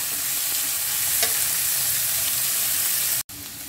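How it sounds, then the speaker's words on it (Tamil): Mixed vegetables with sesame stir-frying in a hot pan give a steady, close sizzle that hisses without a break for several seconds, then drops out sharply for a moment near the end. "மிக்ஸ் பண்ணிட்டு வேக விட்டுருங்க"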